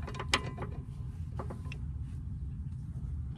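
A ratchet wrench clicks in short bursts on a bolt of a 2004 Chevy Malibu's driver-side control arm and sway bar link, faint metallic clicks over a low background hum.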